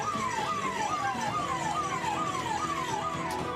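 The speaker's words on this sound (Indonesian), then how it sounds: "2 unit mobil pemadam kebakaran dikerahkan ke lokasi." A fire engine's siren wails in a fast repeating rising-and-falling pattern, steady and fairly close over a rumble of traffic, with no talking.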